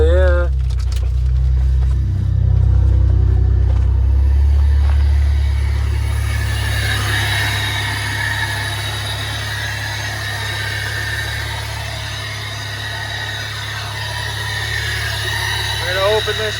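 Pontiac Bonneville SSEi engine idling after starting, a low steady rumble that is louder at first and then settles, with people talking close by.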